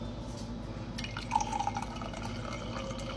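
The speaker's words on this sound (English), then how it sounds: "next we gotta do 8 ounces of coffee" Coffee being poured, about eight ounces, a soft close liquid trickle and gurgle into a cup with a rising fill tone over a quiet background.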